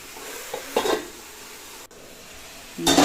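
A spoon stirs bottle gourd curry cooking covered in a pan, making short scraping, sizzling bursts, two or three separate strokes with quiet simmering between them.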